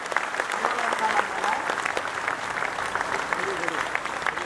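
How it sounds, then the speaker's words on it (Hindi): Listeners at a religious discourse (pravachan) in Jaipur break into lively applause, with many hands clapping at a steady, moderately loud level while a voice carries over it. "जोरदार तालियां बजाइए अच्छे काम के लिए।"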